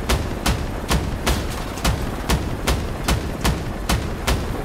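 Rapid regular bursts of gunfire in the vehicle combat game Crossout, shooting the guns off an enemy helicopter, about eleven evenly spaced loud shots over a steady engine-like rumble, with no talk.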